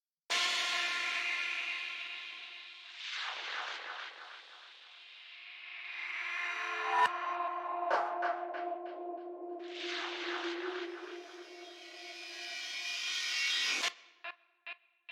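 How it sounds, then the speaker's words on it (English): A processed Foley sound effect made in Ableton, with echo and LFO-swept filtering applied, forms long scraping, rubbing swells that rise and fall. A burst of sharp repeating echoed hits sits in the middle, and the sound cuts off into quick fading echoes. "In the case of this Foley sound, for example, I've put the filter post echo so that the echo is filtered with the filter's LFO"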